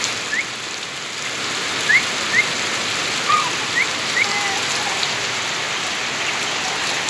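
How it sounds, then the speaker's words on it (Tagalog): Steady rain pours down continuously, with a few faint bird chirps scattered over the hiss. "Ayun, pero malakas-lakas yung ulan mga idol."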